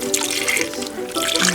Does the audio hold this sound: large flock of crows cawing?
no